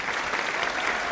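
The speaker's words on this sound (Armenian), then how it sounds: "Նորից ծափարենք դուետրոյից" Brief burst of audience applause for the Duetro kids at an Armenian children's song performance, steady dense clapping filling the short moment with no voices.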